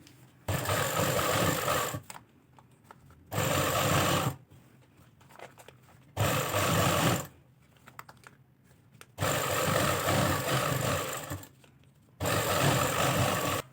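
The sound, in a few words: sewing machine stitching trouser hem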